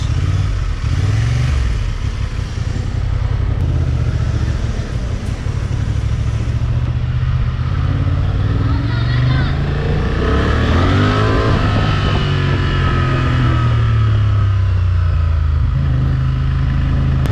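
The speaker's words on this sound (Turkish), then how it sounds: "bu motoru denemek benim için çok hoştu" A Honda Transalp 750 motorcycle riding on a road, its engine droning steadily close by with rising and falling revs as it accelerates, plus wind rush and traffic noise around it.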